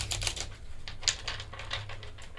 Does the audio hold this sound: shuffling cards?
yes